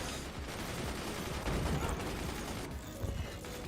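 Machine gun and mortar fire in the Forts RTS game, a dense, continuous barrage of overlapping shots and blasts that stays loud for the whole stretch with no pause.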